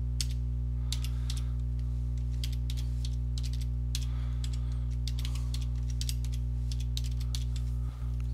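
Keys clatter on a computer keyboard as a password is entered, a quick irregular run of close, crisp taps over a constant low electrical hum.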